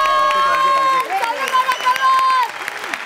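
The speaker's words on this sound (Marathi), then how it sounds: "एकदा जोरदार टाळ्या माझ्यासाठी झाल्या पाहिजेत." An audience at a Marathi television comedy show applauds, bursts of clapping and crowd noise rising under a loud voice and tonal sound from the stage, with the clapping thinning out toward the end.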